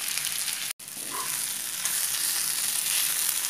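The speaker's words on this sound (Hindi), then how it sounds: "तो फास्ट फ्लेम पे हम ये ओनियन पकाएंगे" Onions frying over a high flame for a poppy seed sabji, giving a steady close sizzle that holds through the whole stretch apart from one brief dropout near the start.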